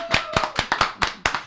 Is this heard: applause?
yes